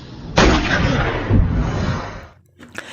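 A pistol fires in a film scene with a sudden loud bang and a long booming, reverberant tail, followed by a second rumbling impact and a brief drop before small sharp sounds at the end.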